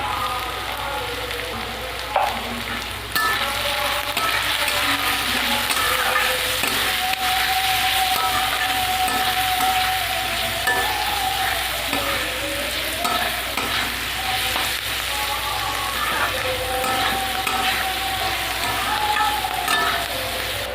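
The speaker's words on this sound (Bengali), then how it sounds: "ক্যাপসিকাম, গাজর আর বিনস আমার ভাজা হয়ে গেছে।" Continuous loud sizzling of capsicum, carrots and beans frying in a pan, with occasional scraping and stirring sounds and a faint whine of a kitchen fan.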